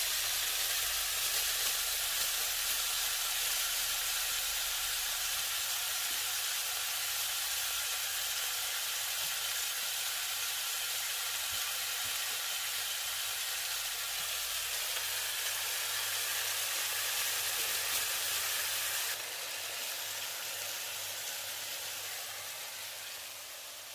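Beef steak sizzles steadily in a hot pan with rosemary, a continuous loud broadband hiss and crackle running for the full length with no pause, easing slightly near the end.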